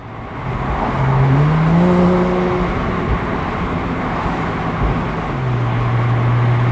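A 2009 Porsche Carrera 4S of the 997.2 generation is driven with the top down. Its engine gives a steady drone under continuous road and wind noise, and the pitch slides up and down as it revs through gears.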